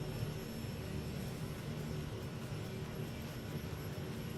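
A Kodiak K100 aircraft departs the runway, its engine a steady, faint, even drone with no change in pitch, heard from inside the cabin.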